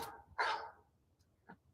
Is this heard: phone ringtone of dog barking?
yes